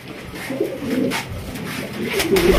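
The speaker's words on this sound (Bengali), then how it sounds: "এটা খুবই ডাকে একটা কবুতর, ডাকটা দেখেন।" A pigeon coos close by in a few low, throaty rolling phrases, repeated at an unhurried pace with nobody talking.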